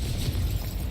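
Incendio fire spell bursting in Hogwarts Legacy, a dense, steady rumbling blast filling the whole second, loud and close with no voice over it.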